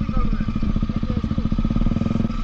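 Motorcycle riding at night on a road in Kashmir, a close, steady throbbing engine pulse with rumbling wind noise, continuous and fairly loud.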